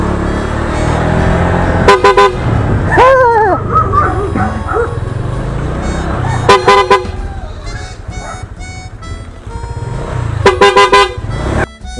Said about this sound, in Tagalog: Ang lakas ng busina ko.